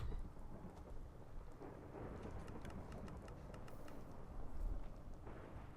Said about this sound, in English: It's not just raining. It's storming.